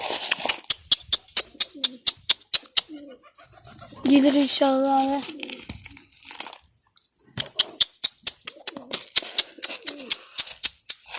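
Soft pigeon coos and rustling mixed with sharp clicking pecks, close by, while someone speaks briefly in the middle.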